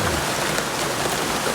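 Steady rain falling over a garden, an even hiss of drops on leaves and surfaces, close and continuous with no voices.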